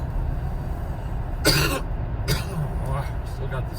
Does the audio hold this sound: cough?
yes